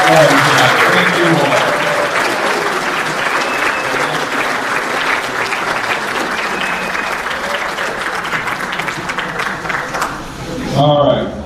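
Sustained audience applause fills a variety-show hall, dense and steady for about ten seconds before thinning, with a voice briefly rising near the end.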